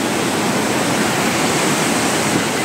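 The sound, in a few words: flowing river water on the Kedarnath trek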